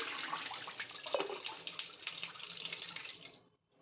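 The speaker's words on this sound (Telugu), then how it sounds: "ఒకసారి పంపు కింద నెలలో బాగా క్లీన్ చేసుకోవాలి" Curdled milk for homemade paneer being rinsed under a running kitchen tap, a steady broadband splash of flowing water that continues for over three seconds and then cuts off abruptly.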